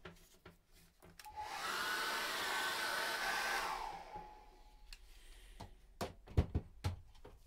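A hair dryer blows on wet acrylic seascape paint for about three seconds, a steady loud whoosh, bracketed by light knocks and taps of brushes and objects on a table before and after.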